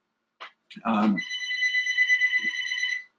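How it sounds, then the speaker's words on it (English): Phone ringing indoors during a trading presentation: a steady electronic ring tone sounds for about two seconds, just after a speaker's brief exclamation. "I'm going to put that phone in a drawer, so we'll never hear that again."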